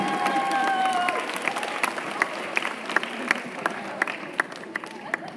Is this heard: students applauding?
yes